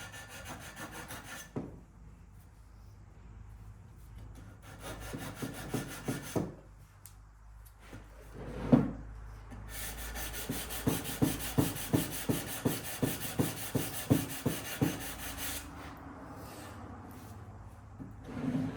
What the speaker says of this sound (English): I'm using 220 grit sandpaper.